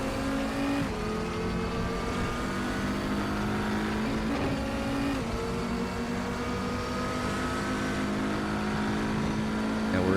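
An Audi TT RS racing on the Nordschleife in the RaceRoom sim sends a steady, loud engine drone through the cockpit, with shifting pitch as it revs up and down between gear changes.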